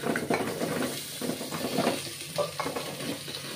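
Peeled carrots stirred in hot ghee for gajar halwa give a steady sizzle with scraping and clinking of a spoon against the pan, close and continuous.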